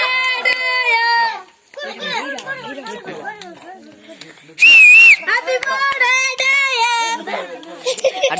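At a child's birthday party, a shrill whistle is blown once in a loud, wavering blast amid lively children's voices and chatter.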